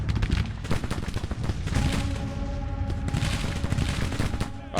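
Dense volleys of cannon and small-arms gunfire crackle from a strategy war game set around a Confederate early invasion, with booming artillery under rapid musket fusillades and a faint tonal game score, loud and continuous throughout.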